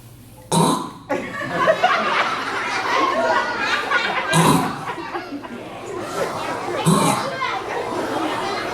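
A voice imitates a gagging, choking throat noise learned from a cat, with repeated wet guttural retches and bursts of breath, loud and close with some laughter mixed in.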